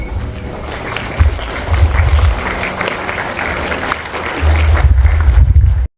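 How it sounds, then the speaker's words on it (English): A large audience at an IT awards ceremony in Meghalaya applauds to welcome the Chief Minister as chief guest. Loud, continuous clapping fills all six seconds, with low rumbling thumps, likely music, swelling in and out beneath it. "kindly stand and welcome him with a huge round of applause"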